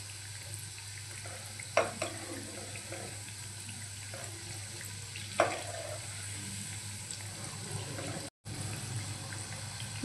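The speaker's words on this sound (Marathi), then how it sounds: "आता आपण फिरवून दुसरी साईडही फ्राय करून घेऊया।" Mixed dal bhaji fry in hot oil in Malvani style, giving a steady, even sizzling hiss throughout, broken by a couple of soft clacks and a brief gap near the end.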